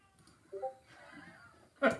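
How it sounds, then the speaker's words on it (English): A pet cat at home meows loudly in two cries, a short one and then a louder, sharper yowl at the end, with faint background murmur between. "Our cat is so loud."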